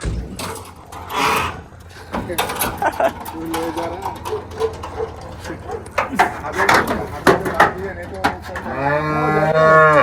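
Goats bleat loudly and repeatedly, close by, as they are loaded onto a vehicle at an animal market; people talk over and between the calls, and a long wavering bleat closes the scene.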